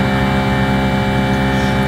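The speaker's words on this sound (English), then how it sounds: "You should be able to hear the machine grab vacuum and go." A VPM2 vacuum mixer runs and pulls vacuum, a loud, steady, unbroken mechanical hum and drone with a rich tonal whine, continuous and close with no talking.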